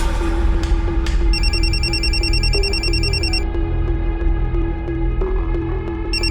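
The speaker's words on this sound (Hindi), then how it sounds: "राकेश भैया का फोन है, तुम्हारा फोन नहीं लग रहा है" A telephone rings steadily in an Indian crime drama scene, a repeating electronic trill that stays loud and close throughout over a constant low background hum, with no talking.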